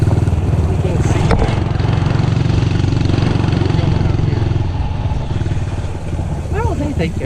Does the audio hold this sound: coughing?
no